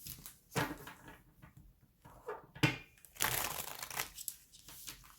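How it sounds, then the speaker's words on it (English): A deck of tarot cards is shuffled by hand up close, with irregular bursts of papery riffling, flicking and crinkling separated by brief pauses. "Let me give these a quick shuffle."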